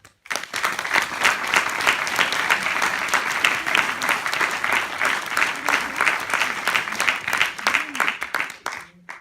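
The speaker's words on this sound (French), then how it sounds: "Merci d'applaudir tous nos bénévoles." Sustained applause from an audience at a cinema inauguration in Gedinne, honoring volunteers, with dense clapping holding steady for about nine seconds before stopping abruptly; some voices murmur faintly underneath.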